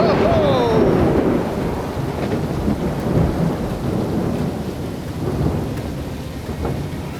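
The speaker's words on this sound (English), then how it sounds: "We're in the middle of a storm." A thunderstorm in Panama pounds down with steady heavy rain and rolling thunder, wind buffeting the microphone throughout, with a brief whistling tone near the start.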